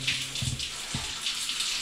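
Water runs near a blocked drain, a steady close splashing stream with a few low gurgling bursts.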